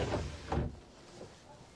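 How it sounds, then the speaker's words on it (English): Big sliding door on a Beneteau Flyer 10 boat rolls along its track with a soft rumbling slide and a muffled thud, followed by quieter movement, close by. "Big sliding door."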